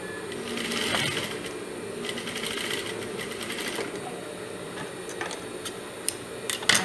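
A sewing machine runs in bursts as it topstitches folded fabric for a semicircular skirt with a pocket, a close mechanical clatter with faint ticking between runs, and no voices.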